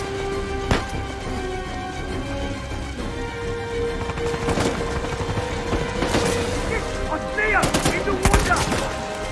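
Gunfire in the video game Uncharted 4, several loud sharp shots and bursts scattered across busy game sound with music and effects, no clear talking.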